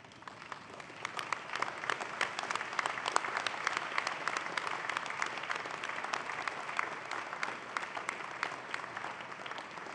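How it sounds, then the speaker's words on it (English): Steady, even applause from a large audience at a university graduation convocation, a dense patter of many hands clapping continuously for the full stretch, heard from a distance. "give them a warm round of applause for supporting your journey"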